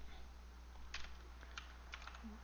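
Someone types Java code on a computer keyboard, producing a few soft, scattered key clicks over a steady low electrical hum, quiet and close, with no talking.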